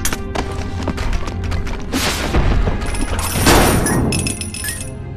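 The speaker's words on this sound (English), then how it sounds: "I should be able to break those stalactites off the ceiling using my batarangs" Batarangs smashing stalactites off a cave ceiling in Batman: The Brave and the Bold, a loud continuous clatter of impacts, cracking and rumbling booms layered with rattling debris and bright ringing tones.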